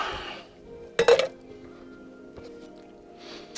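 Dishes clink and clatter in a small travel trailer kitchen: a sharp burst of knocking crockery, then a lighter tap and a few quiet scrapes.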